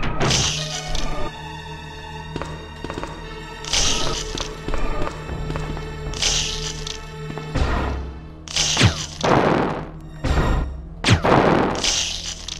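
Bazooka blasts fired at Hunter creatures in the Resident Evil video game, several heavy booming shots with crashing impacts spaced across the stretch, loud and sharp against quieter game ambience.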